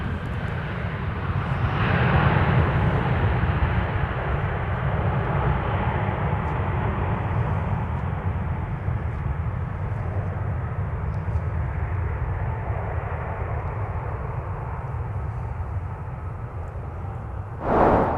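A Southwest Boeing 737 MAX 8 arriving from Denver lands at Minneapolis–St. Paul airport, a loud sustained jet roar that swells early, then holds as a broad rushing rumble before a short burst near the end.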